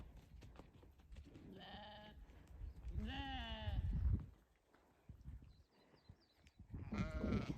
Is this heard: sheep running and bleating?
yes